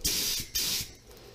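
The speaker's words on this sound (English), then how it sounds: "Spray it with a primer that'll adhere to it." Primer sprayed from an aerosol can onto plastic trike parts comes out as two close, loud hissing bursts, each lasting about a third of a second, followed by a fading tail.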